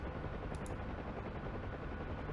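Dense, continuous roar of a Huey helicopter's machine gun firing in a video game, a loud, steady rattle that fills the whole stretch with no pauses and no voices over it.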